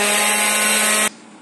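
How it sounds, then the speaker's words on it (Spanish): A blender whirs loud and steady as it beats egg yolks with oil and crushed garlic into a mayonnaise-like garlic cream, then cuts off abruptly near the end. "Seguimos licuando y agregamos en forma de hilo 100 mililitros de aceite."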